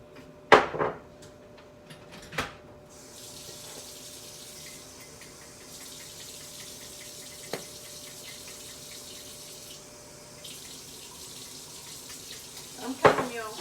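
Tap water runs steadily into a bowl of flour in a home kitchen, a continuous broad hiss with a few louder clinks and bumps at the start and end.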